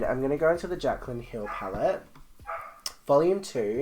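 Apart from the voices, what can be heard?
dog barking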